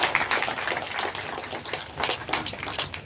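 Scattered hand clapping from an audience at a formal lecture gathering, a loose patter of claps running steadily for a few seconds without speech.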